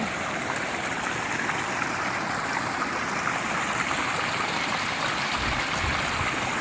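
A small stream by rice fields flows steadily, with continuous babbling and trickling water close by and no voices.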